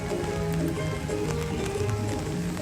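Rain falling at Disneyland, a steady dense patter of drops on surfaces with continuous hissing noise and faint tonal background sounds mixed in.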